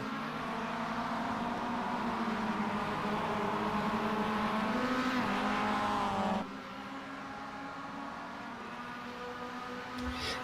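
Race car engines droning steadily in iRacing during a ChampCar endurance round at Adelaide, with cars lifting and saving fuel. The tone is a continuous mid-level hum that drops noticeably partway through, and no voices are heard.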